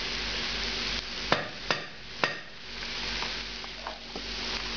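Eggplant filling sizzles steadily in a hot pan as it cooks down to dryness, with a few sharp scraping stirs of a utensil across the pan early on, close and fairly loud.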